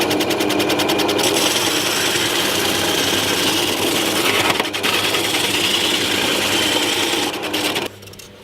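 Pillar bench drill press spinning a homemade sanding drum on wood, a loud close continuous motor hum and whir with sanding rasp, running steadily before winding down near the end, no talk.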